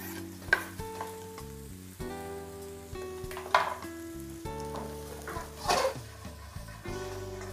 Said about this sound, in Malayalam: അപ്പോൾ ഇതേപോലെ നമുക്ക് ഒന്ന് സോട്ട് ചെയ്തെടുക്കാം